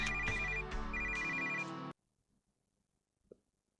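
A phone rings in the video game Picture Perfect Boyfriend, an electronic ringtone repeating in two bursts at steady volume before cutting off to near silence, followed by one faint thump.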